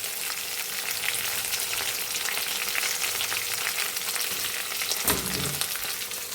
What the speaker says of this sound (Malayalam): അതിലേക്ക് നമ്മുടെ ഉള്ളി, കറിവേപ്പില എല്ലാം കൂടെ ഞാൻ ചേർത്ത് കൊടുത്തിട്ടുണ്ട്.